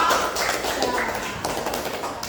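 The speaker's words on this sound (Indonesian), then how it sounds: "Silakan berikan tepuk tangan terlebih dahulu buat kelompok Jawa." Classroom applause for a student group, a dense patter of many hands clapping close by and fairly loud, with voices mixed into the clapping.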